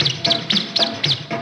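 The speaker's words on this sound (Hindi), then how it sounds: "चुन चुन करती आई चिड़िया" A small bird chirps in a steady series of about six sharp, bright tweets, evenly spaced and close, with a faint low murmur underneath.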